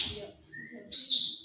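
A short, high, thin whistle, breathy at first and then a clearer sustained tone, heard up close with no talking.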